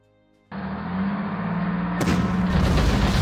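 Infantry attack in the Panzer Corps strategy game on a Poland campaign map: a sudden loud, sustained rumble of gunfire and booming combat effects starts half a second in, then swells even louder and denser near the end, with no talking.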